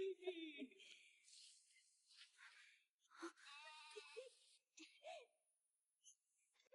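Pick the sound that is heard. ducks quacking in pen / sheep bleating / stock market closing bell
sheep bleating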